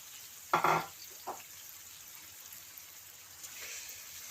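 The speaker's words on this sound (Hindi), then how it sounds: "चिकन को हमने मीडियम फ्लेम पे 4 से 5 मिनट कुक करना है।" Chicken cooking in a pan over a medium flame for white sauce pasta, with a soft steady sizzle, a loud brief splash of sizzling near the start and a smaller one after.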